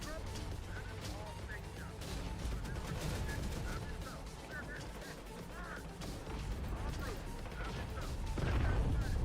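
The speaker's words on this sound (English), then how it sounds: "These mortars are almost out." Mortar fire and battlefield explosions in Terminator Dark Fate Defiance, a busy mix of distant thuds, crashes and gunshots rumbling throughout, rising to a heavier low blast near the end, with game voices chattering underneath.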